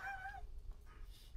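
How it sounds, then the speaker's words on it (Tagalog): A single bird call, brief and faint, with two thin wavering tones at the start, followed by quiet low background noise. "Tunog ibon eh."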